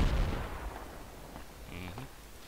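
Gunfire in the tactical shooter Project Reality: a loud burst of shots at the start, then fainter distant reports and scattered pops trailing off over a couple of seconds.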